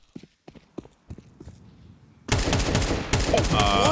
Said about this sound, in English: That's an AK Dink down mid for 99 damage 99